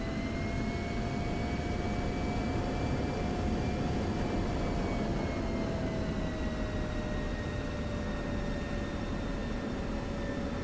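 F-16 jet engine spooling up for takeoff in the DCS flight simulator at night: a steady, loud roar with a high whine that drifts slowly downward in pitch, continuous and unbroken with no talk.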